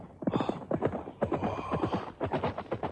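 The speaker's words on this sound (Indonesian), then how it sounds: "Suara derap kuda, loh." Horse hooves clip-clop at a gallop in an Indonesian radio drama, a rapid rhythmic drumming that stays close and steady throughout, with faint neighing mixed in.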